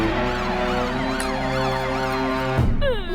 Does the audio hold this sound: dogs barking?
no